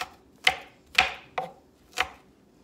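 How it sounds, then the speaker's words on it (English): Knife chopping garlic on a board while making campfire chili in a Dutch oven: four sharp, distinct chops spaced about half a second apart, close and clear with nothing else heard. "Now I'm gonna chop my garlic up."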